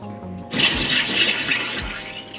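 After a brief pause, a loud, steady rush of water surges through household pipes as the main feeder valve is opened after frozen pipes, filling and hissing continuously up close with no talking.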